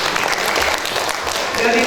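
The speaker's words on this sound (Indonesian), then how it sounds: "Tepuk tangan dulu." Audience applause fills a hall at an inauguration ceremony for the KKSS community organisation in Dumai, a dense, steady clatter of many clapping hands held throughout at close range.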